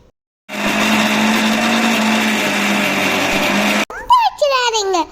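A mixer grinder whirs steadily for about three seconds, grinding coconut pieces, green chillies, salt and curd into chutney. Then it cuts off abruptly and a voice speaks.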